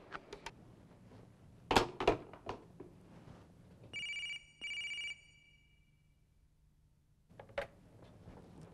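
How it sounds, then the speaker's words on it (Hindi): Two short bursts of an electronic telephone ring sound after a few knocks and clatters, then quiet before more handling noises. "सर, मिस जूली के लिए फोन है।"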